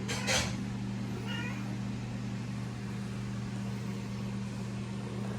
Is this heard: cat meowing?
yes